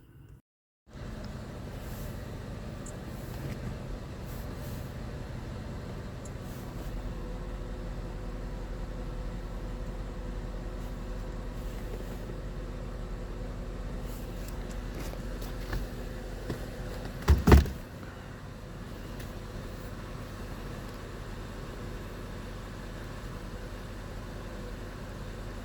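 A Cadillac engine with a misfire starts and then idles steadily. The low hum is continuous, with a faint ticking and a short louder clunk midway.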